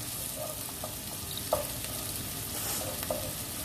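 Minced meat and bell pepper fry quietly in a pan, giving a soft steady sizzle broken by a few faint stirring knocks.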